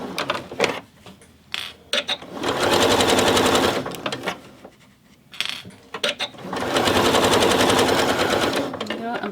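A sewing machine bastes zip tape onto a fabric panel in two long bursts of rapid, loud stitching, separated by brief pauses, clicks and handling noises.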